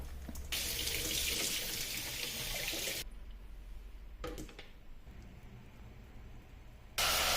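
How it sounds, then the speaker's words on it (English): Tap water runs into a sieve over a sink, rinsing drained canned mixed beans: a steady rushing stream, then a pause with light clatter and trickling before the flow starts again. "giving the mixed beans a good wash in running water"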